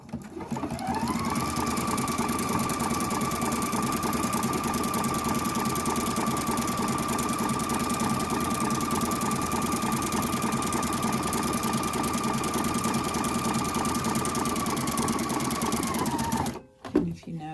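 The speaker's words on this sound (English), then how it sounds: "I'm going to stitch on this side, so the elastic is really secure and balanced" A sewing machine runs steadily while stitching elastic onto a bra, giving a continuous, loud mechanical whir with a fast regular rhythm for about sixteen seconds before it stops abruptly.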